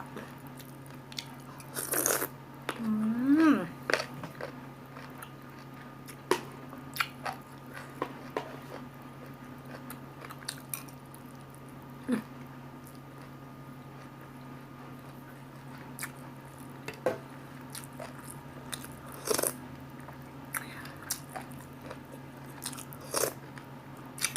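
Someone eats mushroom curry made with pak tiu leaves and rice, producing quiet, close crunching and chewing bites that come intermittently against a low steady background hum.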